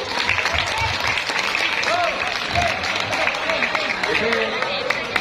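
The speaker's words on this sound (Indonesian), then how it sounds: "Tepuk tangan untuk" Audience applause at a talk or seminar, a steady wash of clapping from many hands filling the room, with a voice talking faintly underneath.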